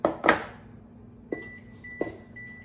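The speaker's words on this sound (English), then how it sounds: "Sounds like my oven's ready." A kitchen oven signals it has finished preheating: a couple of clunks are followed by two or three short, bright electronic beeps spaced about a second apart, close by and clear with no talk.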